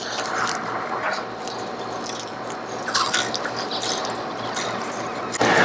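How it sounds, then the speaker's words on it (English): Loosening the nut on a rear connecting rod of a 1992 BMW E34 M5 during driveline disassembly gives a steady run of close ratchet clicks and metallic tool sounds, with a sharper clank near the end. "What I just did was loosen this connecting rod here."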